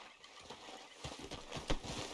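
Horse hooves clip-clop in Red Dead Redemption 2, faint at first then a quicker run of soft rhythmic thuds, with one sharper hit near the end, alone without talk.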